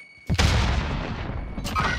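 A frag grenade explosion in a battle royale shooter match on Rebirth, one sharp loud blast with a heavy rumbling tail, followed by a second smaller burst near the end.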